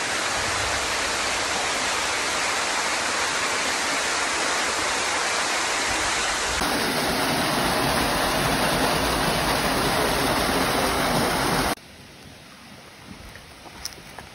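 Steady broadband rush of flowing water from a small river in Jamaica, continuous and close, easing to a quieter trickle near the end.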